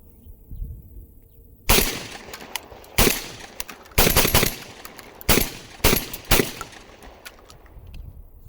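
Mac 1014 shotgun, a Benelli M4 clone, fired outdoors: about eight loud, sharp blasts in uneven bursts, some spaced a second apart and some in quick pairs, with quiet gaps between.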